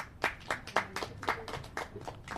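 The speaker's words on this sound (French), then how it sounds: "Applaudissez." Scattered applause for a young designer at a youth event in Agadez: a handful of distinct claps in an uneven rhythm, fairly faint and with no voices over them.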